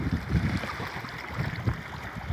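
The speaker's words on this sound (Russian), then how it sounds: "Вот такое море после дождя." Sea waves rolling in at Sevastopol after an October rain, a steady rush of surf with soft, repeated low swells breaking close by and no voices.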